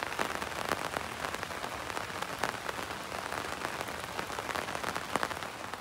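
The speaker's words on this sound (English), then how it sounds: "We'll get dried off from all this rain" Steady rain falling on a surface, a dense continuous patter with occasional louder drops, fairly close and without voices.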